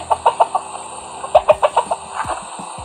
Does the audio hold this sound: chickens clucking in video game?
yes